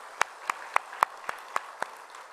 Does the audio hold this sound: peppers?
no